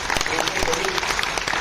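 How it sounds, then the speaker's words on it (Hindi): Audience at a scholarship awareness workshop clapping, dense steady applause from a room of people, close and loud for under two seconds, with a voice briefly heard over it. "हमारे पार्टिसिपेंट्स को देंगे तालियां जोर से।"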